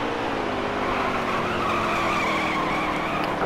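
Continuous tire skid and engine roar in a racing game, a steady loud screech with rising squeal tones as cars scrape through a contested corner.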